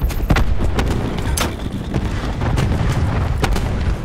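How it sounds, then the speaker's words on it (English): Cluster grenade blasts in Call of Duty: Black Ops IV multiplayer team deathmatch: a dense, loud stream of booms and popping bursts, several sharp cracks standing out over continuous rumbling battle noise. "Cluster grenade going out."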